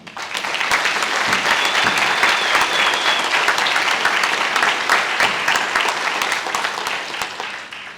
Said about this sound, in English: I think we all should applaud them one more time